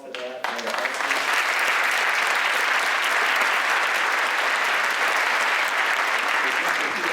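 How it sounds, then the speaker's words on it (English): A school auditorium audience at a middle school honor band clinic applauds band directors and students. A brief voice is heard first, then full, loud clapping swells in and holds steady to the end. "they deserve a round of applause for that"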